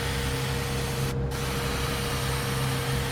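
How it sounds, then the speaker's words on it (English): An airbrush sprays paint onto a fishing lure in a steady, continuous hiss, close and even throughout with a brief interruption midway. "I like to start off the job, so I'll start spraying it here and then I'll work myself onto the job."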